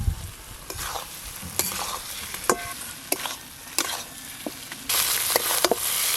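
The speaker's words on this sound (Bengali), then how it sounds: "এবার ভেজে রাখা ডিমগুলো মশলার ওপরে দিয়ে দেব।" Fried eggs cook in oily masala with a soft, steady sizzle, punctuated by sharp clicks and scrapes of a spatula stirring in the pan. The sizzle grows louder and hissier near the end.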